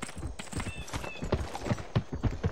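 A horse's hooves clip-clop in the Gun Indonesia video game, a steady series of close, distinct hoof strikes over a busy background with a faint whinny-like tone.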